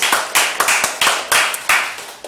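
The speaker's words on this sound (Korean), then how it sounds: "박수!" A church congregation gives a short round of brisk, rhythmic clapping, about eight sharp, close claps in a steady beat, with no voices over it.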